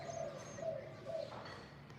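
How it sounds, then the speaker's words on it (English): Pigeons and other birds call outdoors in a Cambodian neighbourhood, a few soft repeated coos at a moderate distance over steady background hum. "You hear the birds? Birds are flying around."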